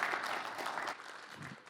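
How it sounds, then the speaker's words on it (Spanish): Brief, faint applause from a mining operations technical conference audience, a soft patter of clapping that thins out toward the end. "Un aplauso, por favor."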